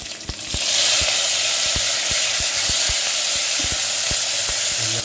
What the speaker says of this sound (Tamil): வதங்க தக்காளி பழத்தையும் நாங்கள் சேர்த்து வதக்குவோம்